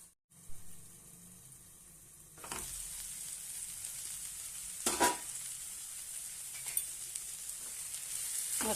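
Brinjal chutney sizzles steadily in a covered pan, a soft constant fry that grows louder after a couple of seconds, with a few brief clinks or lid knocks along the way.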